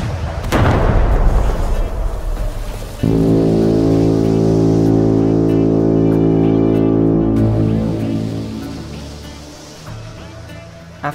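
A heavy blast erupts as shells hit a ship's boiler, then a deep sustained rumble rolls on for several seconds before fading, loud and close.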